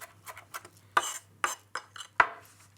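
Fresh mint being finely chopped on a board: a handful of sharp knife strikes, a few light taps then several firmer chops at an irregular pace, close and crisp in a quiet room.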